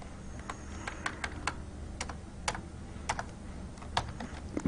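Fingers typing a network command on a computer keyboard, a steady run of close, light key clicks with uneven spacing over a low background hum, no talk.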